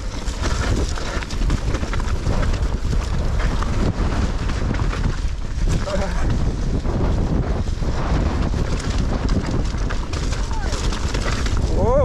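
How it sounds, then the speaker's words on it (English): Strong wind buffets the microphone during a rocky mountain bike enduro trail ride near São Brás de Alportel, Portugal, a loud steady roar of rumbling gusts that runs through the whole stretch and drowns out other detail. "Super windy,"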